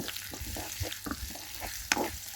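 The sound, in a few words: frying onion, garlic and green chili in a pan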